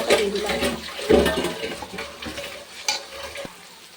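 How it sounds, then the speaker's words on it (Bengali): Spice paste added to fried onions in a pan for biryani-style braised mutton, giving a brief burst of frying sizzle with stirring scrapes, close and moderately loud, settling into softer crackle. "পেঁয়াজটা ভাজা হয়ে গেছে, এই মশলাটা দিয়ে দিলাম।"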